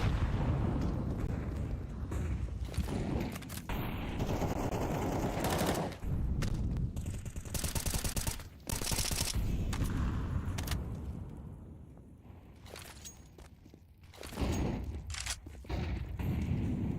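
Grenade blast and sustained gunfire in Counter-Strike, dense loud volleys and booming bursts layered over one another for most of the stretch, with brief lulls between heavy rattling exchanges.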